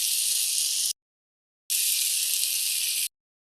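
Sugar-sweetened chutney fries in a pan, giving two bursts of bright, steady sizzle separated by a short silent gap, close and fairly loud with no voices.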